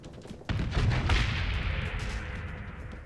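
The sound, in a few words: missiles firing and exploding in the video game Destiny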